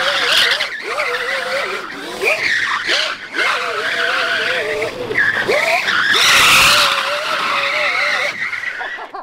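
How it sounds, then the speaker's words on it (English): Surron electric go-kart spinning its tires through donuts, loud continuous squealing and skidding with wavering pitch and a faint electric motor whine, no voices over it. "It has the torque to break it loose and do donuts."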